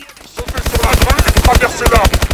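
Sustained automatic gunfire rattles in Call of Duty Advanced Warfare's campaign, a fast, evenly pulsed stream of loud, close shots.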